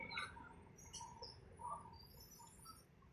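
Faint birds chirping and tweeting from a distance at Manila Bay's Dolomite Beach, over a steady outdoor background hiss, with scattered short calls throughout.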